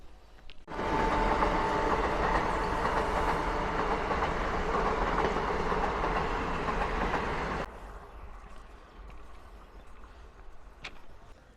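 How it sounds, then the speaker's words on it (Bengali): A railway tamping machine works on a track near a level crossing, giving a loud, dense mechanical rumble and clatter that cuts off abruptly, leaving quieter background noise. "এদিকে প্যাকিং মেশিন সামনের দিকে এগিয়ে যাচ্ছে।"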